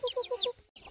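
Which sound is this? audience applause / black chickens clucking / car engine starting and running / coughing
black chickens clucking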